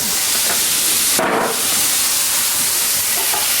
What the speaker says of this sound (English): That's what we want to hear, that sizzle.